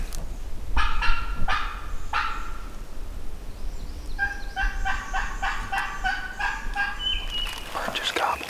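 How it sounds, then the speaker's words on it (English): A wild turkey gobbles several times in Tennessee woods during a hunt, not far off but softer than close range, over steady outdoor background noise. "Bird just gobbled."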